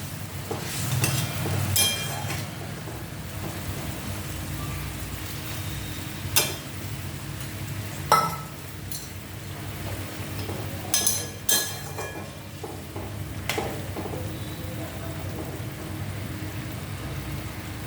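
Bottle gourd curry with fish bubbling in a pan, a steady soft sizzle and simmer broken by several sharp clinks and knocks of utensils, no speech.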